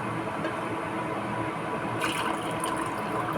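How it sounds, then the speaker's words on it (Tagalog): Moringa (malunggay) broth is poured through a kitchen strainer into a container, a steady close liquid rush that grows brighter and splashier partway through, with no talking. "lagay natin ang sabaw ng malunggay dito. Nilagay ko ng strainer para walang leaves na mapunta."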